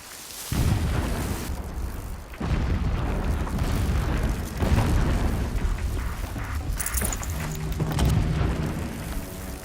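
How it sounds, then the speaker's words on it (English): Distant explosions rumble through a Horizon Zero Dawn game scene, a steady low booming roar with repeated heavy bursts over about ten seconds and no talk. "explosions in the distance."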